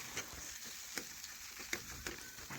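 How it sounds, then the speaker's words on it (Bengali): Pulao is stirred in a pan while it cooks, giving a soft, steady sizzle broken by a few sharp scraping clicks of the spoon, close and fairly quiet. "আবারও একটু নাড়াচাড়া করে নিচ্ছি।"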